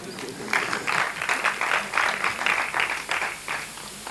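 An audience at a transpersonal psychology and spirituality conference breaks into applause, a moderate wash of clapping that holds steadily for a few seconds.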